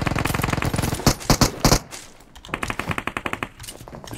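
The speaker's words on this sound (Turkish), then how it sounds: "Bir yerde çatışıyorlar ama nerede?" Gunfire in the PUBG Mobile video game: close, loud bursts of rapid automatic shots, a short pause, then another rattling burst of fire.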